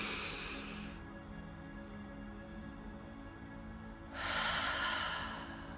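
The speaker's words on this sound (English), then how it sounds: "I'm going to ask everybody to take a deep breath in" Slow, deep breaths during a guided relaxation exercise, heard quietly and close: one long airy exhale, a quiet pause, then a stronger breath that fades out, with no talking.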